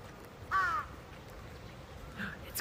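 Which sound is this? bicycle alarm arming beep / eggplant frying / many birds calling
many birds calling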